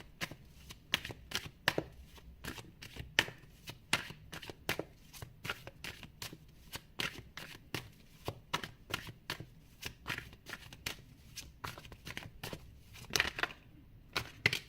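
Tarot cards are shuffled and drawn in a steady run of crisp, rapid riffling snaps, close and fairly quiet, continuing without pause for the whole stretch.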